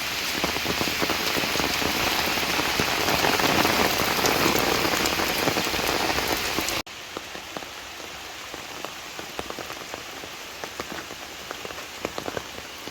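Steady rain pattering hard on a surface nearby, then abruptly quieter but still falling, with scattered drops tapping close by.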